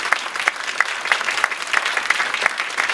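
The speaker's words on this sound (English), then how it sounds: "can we please give a round of applause?" Audience applause at a Stanford XR conference panel, a thin crowd of hands clapping steadily for about three seconds with individual sharp claps standing out, fairly close and without talk.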